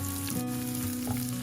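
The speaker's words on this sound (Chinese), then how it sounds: "倒入姜丝和干葱头" Shredded ginger and dried shallots sizzling in hot oil in a wok, a steady close crackling fry with light stirring scrapes.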